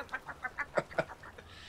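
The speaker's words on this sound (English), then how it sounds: "you've heard the clucking in the distance, right?" A chicken clucks in a video game, a string of about eight short rhythmic clucks rising to a couple of louder ones midway, faint and distant-sounding over quiet background noise.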